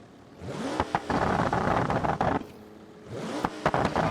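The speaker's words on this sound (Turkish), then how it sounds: "Soğuk motorla da böyle gaz vermezsin." A cold car engine in BeamNG.drive is revved hard twice, each burst rising from idle into a loud, rough roar and dropping back, with a short idle gap between the two blips.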